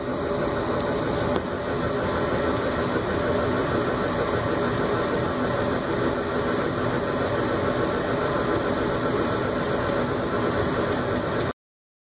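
A steady, loud mechanical roar of a laser cutter's exhaust fan runs continuously with no variation, then cuts off abruptly near the end.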